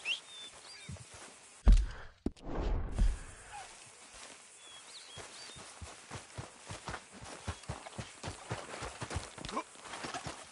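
A horse's hooves clip-clop at a steady walking rhythm in Red Dead Redemption 2, fairly close, with a few heavier thumps and scuffs near the start before the even clopping settles in.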